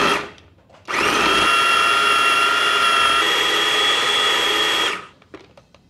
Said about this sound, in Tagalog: Gamit ang food processor, lalagay natin tong 2 cups ng garlic.